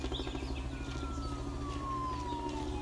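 A police siren in Road 96 whines faintly in a slow falling tone over a low, throbbing engine rumble, sounding somewhat distant.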